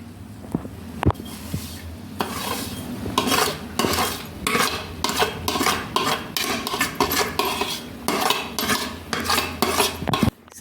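Vermicelli stirred into boiling milk for sweet kheer, a spoon scraping and clinking against the pot in an irregular, close rhythm of repeated strokes, with a low simmering rumble underneath and no talk.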